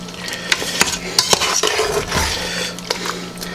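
Broccoli being stirred into spinach ricotta ravioli in Alfredo sauce, with repeated utensil scrapes and clinks against the pan over a soft sizzle, close up and irregular.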